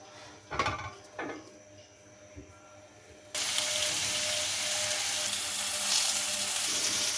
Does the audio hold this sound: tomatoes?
yes